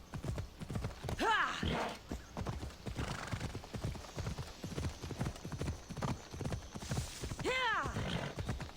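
Horse galloping in Assassin's Creed Odyssey, with rapid rhythmic hoofbeats running throughout and two loud neighs, one early and one near the end, while a man gives a short shout over the ride.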